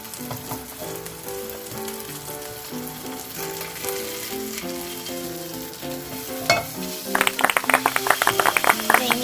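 Flipped mackerel fillet frying in a pan, steady bright sizzling that grows into sharper, rapid spattering pops near the end, with music playing underneath.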